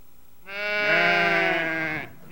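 A single sheep from a Navajo flock near Monument Valley gives one long, drawn-out bleat lasting about a second and a half, close and clear over a quiet background.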